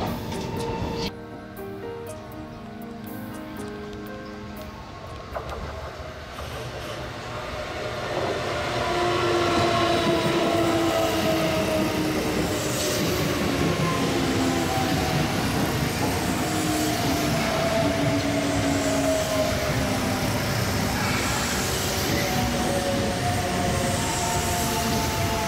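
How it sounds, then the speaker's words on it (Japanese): A Kintetsu Nara Line train heads toward Osaka down a steep, continuous grade while braking. A rolling rumble swells after the first few seconds into a loud, steady roar, with whining tones that drift slowly in pitch. "坂を下る大阪方面行きの列車では 車でいうエンジンブレーキにあたる 翼足ブレーキをかけながら慎重に坂を下っていきます"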